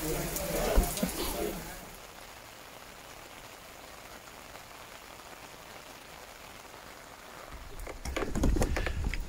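Steady rain falls on a golf course with USGA greens, a continuous soft hiss of drops on the surface, with louder bursts of handling noise near the start and end.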